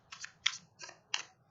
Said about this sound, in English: I'm gonna shuffle because I haven't shuffled it yet